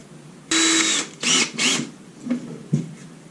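A few short bursts of drilling holes in a wooden chair, three quick runs close together followed by fainter scraping and a knock, with no talking.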